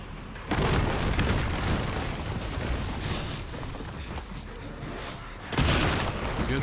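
A grenade blasts in Resident Evil Requiem, a loud, broadband boom that cuts in sharply and rumbles on for several seconds before a second heavy burst near the end.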